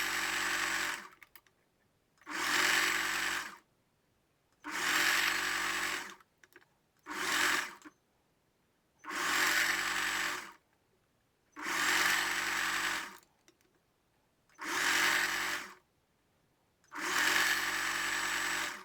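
A sewing machine stitches elastic along the top edge of a wireless bralette in repeated steady runs of about two seconds each, separated by short pauses, loud and close.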